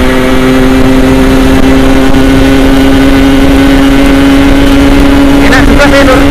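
A Yamaha RX King motorcycle with a swapped PC 32.5 MG carburetor speeding along a road, its engine droning loudly and steadily up close, with a brief rising rev near the end.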